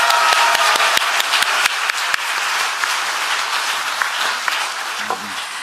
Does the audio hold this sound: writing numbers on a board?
no